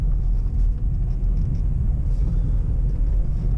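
A C6 Corvette engine rumbling steadily through a slow U-turn, a deep continuous drone heard from inside the car, loud and even with no talk.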